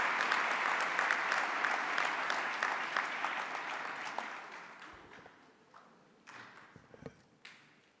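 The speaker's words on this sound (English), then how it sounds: "Let's give Prof a very big round of applause once again" An audience at a provincial tourism career expo gives loud, steady applause that gradually fades out over several seconds, leaving scattered last claps and light thumps.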